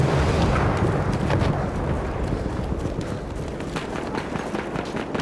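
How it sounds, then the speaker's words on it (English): Bombs exploding in the Battlefield 1 video game on a desert battlefield, a dense continuous rumbling roar of blasts and debris, loud and heavy at first and easing slightly, with faint gunfire crackle on top. "that guy's dropping bombs"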